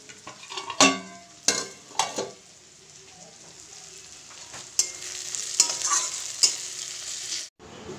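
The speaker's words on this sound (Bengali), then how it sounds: "তো এগুলো একটু ভালো করে নাড়াচাড়া করে নিতে হবে।" Boiled mashed potato with carrot and cauliflower is stirred into a spice mixture in a frying pan: a soft sizzle throughout, punctuated by several sharp spatula scrapes and clinks against the pan.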